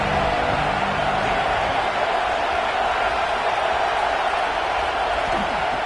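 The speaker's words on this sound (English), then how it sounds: "This crowd ready to make its presence known." A packed American football stadium crowd roars in a steady, loud wash of cheering and noise that holds without a break through the whole stretch.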